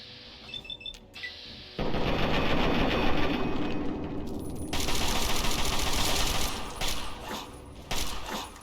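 Gunfire from a rifle in Fallout 3, loud rapid bursts of shots that run nearly continuously after a short quiet start, with a few brief pauses near the end.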